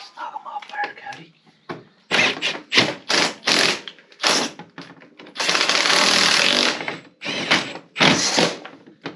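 A ratchet snugs bolts on a Honda Reflex 250 scooter, loud close bursts of rapid clicking in repeated strokes with one longer continuous run, a voice briefly heard at the start.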